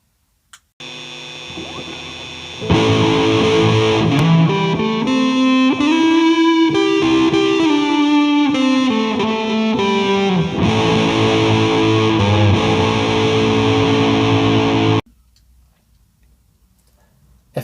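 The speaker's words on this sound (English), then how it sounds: "we're going to add in a delay and reverb" An instrument played through a Zoom R8 plays a sustained, distorted melodic phrase drenched in echoing delay and reverb effects, with a steady ticking pulse underneath; it stops abruptly, leaving faint hum.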